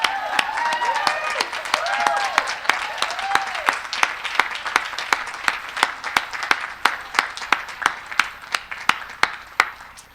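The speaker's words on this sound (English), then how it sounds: "we need a big round of applause for our photography team." A graduation ceremony audience claps in scattered, sharp individual claps. They start over voices and thin toward the end as a few distinct hand claps ring out in a large hall.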